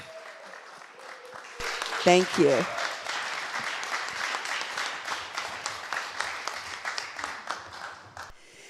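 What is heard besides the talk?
congregation applause for the church board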